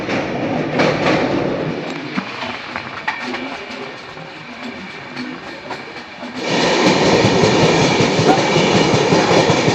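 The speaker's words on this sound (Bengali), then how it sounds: "সেই ট্রেনটা কিন্তু পাশ দিয়ে পাস করছে" A train on the Sombath–Jabalpur–Indore line rumbles past near the dry Katni River, a steady broadband roar and rattle that swells louder and closer in the last few seconds, with no talk.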